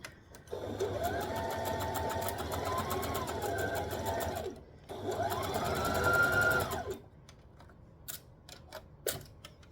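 A sewing machine stitches a dress in two sustained runs of rapid, steady needle clatter with a rising motor whine, separated by a short pause, then quiet clicks and handling sounds as the fabric is adjusted.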